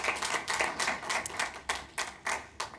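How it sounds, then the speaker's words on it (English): Meeting attendees at a school board session clap in a brief, somewhat sparse round of applause, a quick irregular patter of hand claps at moderate distance. "We can clap."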